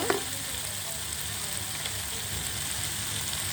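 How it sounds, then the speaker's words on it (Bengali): Boiled taro stolons land in a pan of sizzling spice paste, giving a brief soft thump at the start followed by a steady, close frying hiss. "এরপরে আমি সিদ্ধ করে রাখা লতিগুলি দিয়ে দেব"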